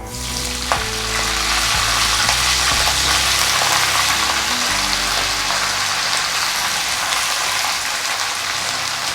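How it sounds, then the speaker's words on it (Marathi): Fenugreek leaves tossed into garlic frying in a pan set off a loud, steady sizzle that carries on for several seconds, with stirring and scraping over the top and no voices. "आणि आता आपण यामध्ये मेथीची भाजी टाकून घेऊया"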